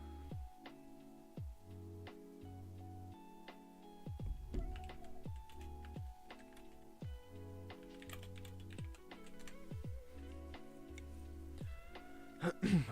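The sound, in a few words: typing on an old mechanical keyboard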